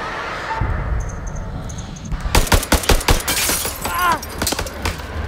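House of Ashes gunshots, a rapid string of loud, sharp shots with crashing, shattering impacts after a quieter opening, then a few scattered effects fading out.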